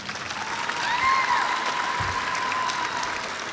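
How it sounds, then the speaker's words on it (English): Sustained crowd applause at a spring community college commencement ceremony, a dense steady wash of many hands clapping with faint whistles and a brief thump partway through, filling the hall without speech. "give a round of applause to who supported you"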